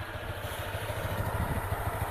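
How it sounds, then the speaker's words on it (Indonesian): A Honda Vario 160 scooter idling with noticeable vibration, a low steady engine rumble with slight rhythmic pulsing, close by and moderately quiet. "ini kok kalau idle tuh geter banget motornya"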